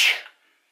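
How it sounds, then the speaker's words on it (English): A single sharp sneeze bursts out loudly, then fades quickly into near silence. "I have to sneeze."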